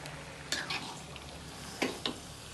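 Thick rendang cooked with lemongrass and bay leaves is stirred in a pan, with a few short scraping strokes over a soft, low sizzle.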